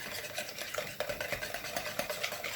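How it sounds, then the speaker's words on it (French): Eggs are whisked in a bowl for carbonara, a quick rhythmic tapping and swishing of the whisk, close and fairly quiet, no talking. "je vais tout d'abord les mélanger et les fouetter"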